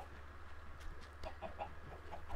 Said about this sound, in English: This is his chicken farm.